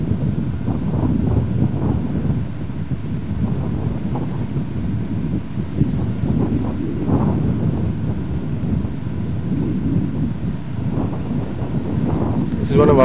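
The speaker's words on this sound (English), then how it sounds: "This wind is coming in fast." Strong wind blows outdoors and buffets the microphone in a continuous loud low rumble that surges and eases but never stops for the whole stretch.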